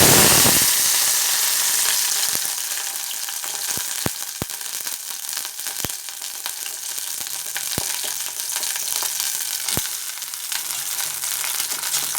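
Loud, steady sizzling of brinjals frying in hot oil, dotted with occasional sharp pops and crackles, with no voices.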